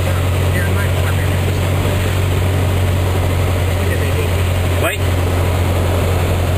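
A small propeller airplane engine drones steadily and loudly from inside the cabin during an approach to landing over Lac-Saint-Jean, a constant low hum with a brief crackle partway through and a short spoken word over it.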